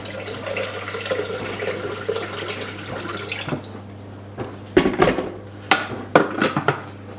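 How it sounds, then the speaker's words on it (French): Water runs steadily into a Thermomix bowl, filled up to the blades ahead of its cleaning mode, for a few seconds, then stops. Close, sharp clinks and knocks of utensils or dishes follow. "Je mets simplement de l'eau à hauteur des couteaux."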